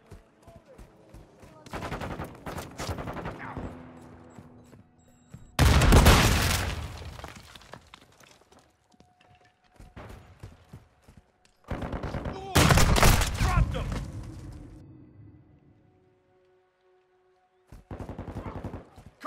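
Call of Duty gunfire erupting in heavy bursts of rapid shots and fusillades, loud and close, separated by quieter stretches with faint in-game radio chatter and hum.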